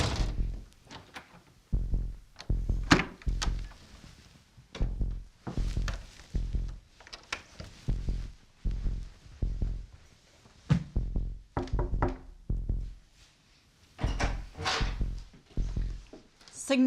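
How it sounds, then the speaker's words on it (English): A door thuds repeatedly during a paranormal investigation, sharp knocks and bumps arriving in irregular bursts, some louder and closer than others, with faint talk between them. "So yeah, you can hear the door."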